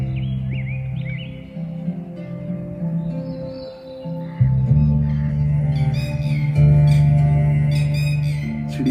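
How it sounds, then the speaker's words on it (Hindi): Birds chirp and squawk in short, bright calls over a steady low indoor hum, with fuller, louder bursts of song toward the end. "चिड़िया की आवाज आ रही है?"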